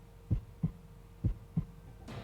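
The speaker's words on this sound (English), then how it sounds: "The little heartbeat." Heartbeat sound effect in NCAA Basketball 10, four low thumping beats in an even, moderate rhythm, close and clear over a quiet backdrop before a brief rush of noise at the end.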